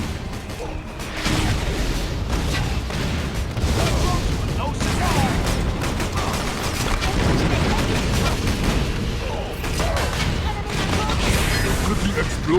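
Rapid, continuous explosions and booming gunfire from the GameCube game Battalion Wars rumble loudly and densely throughout, with heavy crashes layered over one another.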